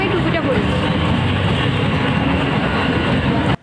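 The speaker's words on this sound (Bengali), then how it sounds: "তা ট্রেনটা যেয়ে নিক, তারপরে আমরা পার হবো।" A train passes close by at a level crossing, with a loud continuous roar of wagons and rhythmic wheel clatter that cuts off abruptly at the end.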